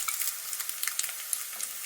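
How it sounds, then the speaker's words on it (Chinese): Thick slices of firm tofu pan-fry slowly over low heat, producing a brief, close, crackly sizzle with fine popping spatter and no talking. "老豆腐一块，改刀成厚片，然后下锅煎一下，小火慢煎"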